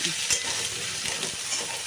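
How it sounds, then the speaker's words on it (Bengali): Ground chilli, cumin and coriander frying in oil with potato, tomato, onion and ginger paste, a close, dense sizzle with scraping stir strokes over a short stretch. "এবার ওর সাথে মশলাটাকে আগে ভাজা ভাজা করে নিচ্ছি"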